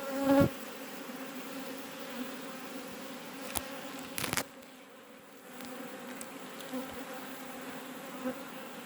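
Honey bees buzz steadily around a hive just after the colony has swarmed, a continuous close insect drone with a few louder passes near the start and midway.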